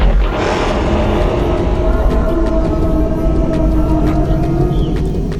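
A deep, sustained dinosaur growl from Roblox Dinosaur Simulator rumbles continuously for several seconds, a low droning snarl with a faint rising tone early on, steady and loud with no voices over it.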